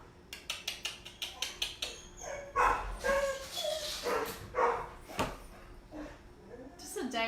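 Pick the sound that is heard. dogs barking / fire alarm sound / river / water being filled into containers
dogs barking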